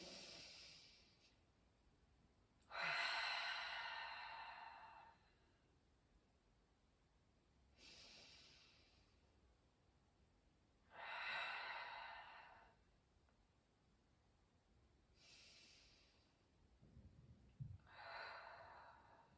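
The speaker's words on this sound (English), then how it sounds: "Breathing in through the nose and out through the mouth 3 times." Slow, deep breaths drawn in through the nose and let out through the mouth during a gentle seated restorative yoga session, three long airy exhalations spaced several seconds apart, close and fairly soft, with no talking.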